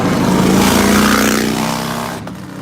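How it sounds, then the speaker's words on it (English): A loud motorcycle engine roar sweeps past close by on the Fort Lauderdale beach strip during spring break, then fades away as the motorcycles move off, leaving a quieter rumble. "Ah, the sound of motorcycles."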